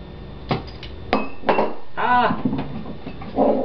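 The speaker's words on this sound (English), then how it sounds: "Sorry, my soy sauce just dropped." A soy sauce bottle drops in a home kitchen while a sticky chicken marinade is being made, giving several sharp clattering knocks and a rattling roll against the counter and dishes, close and loud.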